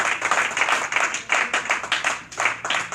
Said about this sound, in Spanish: aplauda al Señor de la gloria